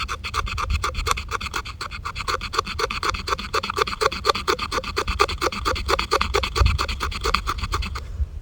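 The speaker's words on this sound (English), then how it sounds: "using the back of the saw and scraping the fat wood" The back of a saw blade is scraped repeatedly along a piece of resinous fatwood outdoors, making a fast, even rasping rhythm of sharp strokes, close and loud, running continuously for several seconds.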